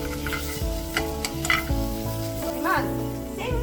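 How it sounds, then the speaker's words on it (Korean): Shiitake mushrooms stir-fry in a pan while a steady sizzle runs under background music, with scraping stirs and soft clicks of a spatula now and then. "이어서 표고버섯도 볶아줍니다."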